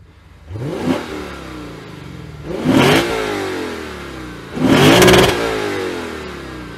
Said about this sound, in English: the one noise that you do want to hear in the cabin is the sound of the V8